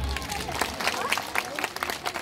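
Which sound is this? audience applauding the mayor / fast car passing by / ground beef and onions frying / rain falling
audience applauding the mayor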